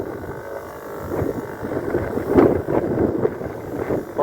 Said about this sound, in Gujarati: પવન ફૂલ ઉપડી ગયો છે,